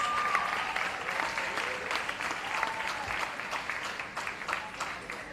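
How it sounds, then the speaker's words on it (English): An audience at a performing arts awards ceremony gives a sustained round of clapping that fills the hall, with a few faint voices and whoops scattered through it. "I'm going to ask you to please give her a big round of applause."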